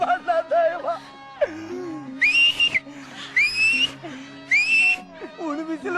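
A pressure cooker cooking rice gives three loud, shrill whistle blasts spaced about a second apart, interleaved with voiced, speech-like sounds.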